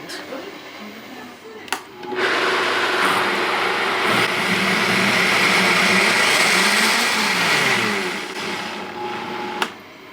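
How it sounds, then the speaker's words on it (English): A blender whirs loudly for about six seconds as it blends a tofu scramble with turmeric, onion powder and salt, its motor starting with a click, holding a steady roar, then winding down before a final click. "we're going to blend, blend, blend"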